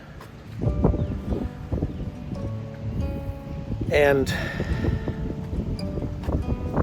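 Low rumbling wind buffets the microphone while someone speaks outdoors, the gusts rising and falling beneath his voice.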